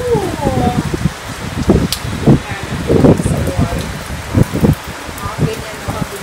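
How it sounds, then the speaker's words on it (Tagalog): Scattered rain is driven by strong wind on a rainy afternoon, pattering in uneven bursts with gusty rustling. A voice talks over it at times. "Mas scattered rain siya kasi lakas ng hangin."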